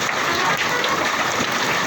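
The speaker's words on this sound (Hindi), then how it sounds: "मेघालय में हो रहा है बारिश नहीं है, सिर्फ पत्थर है" Hailstones pelting down in Meghalaya, Shillong, a dense, loud, continuous rattling roar of ice striking surfaces and vehicles, like heavy applause without a break.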